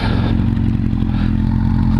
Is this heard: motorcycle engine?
yes